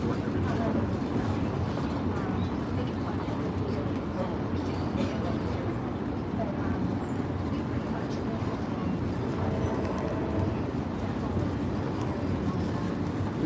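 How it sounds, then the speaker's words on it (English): Steady, loud rumble of a fast-moving train ride, heard from on board as a continuous low roar with rattling throughout and no clear breaks. "This train going super fast"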